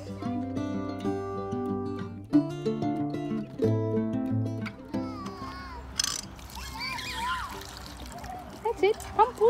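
Water from a hand pump splashing and trickling at a park playground, the spattering coming in the second half after sustained tonal sounds, with children's voices close by.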